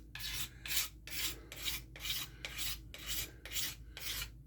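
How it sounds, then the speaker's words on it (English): A card scraper shapes a wooden axe handle in eight even, rhythmic one-directional strokes, each a crisp rasping scrape separated by short pauses, close and clear with no voices. "it's going to dull down my card scraper."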